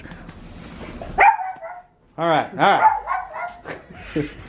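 A dog barks in a few sharp bursts close by, with a person speaking briefly between the barks.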